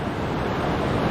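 Rough whitewater of a Class 3 river rapid, a steady loud rush of churning water and wind buffeting the microphone with no break.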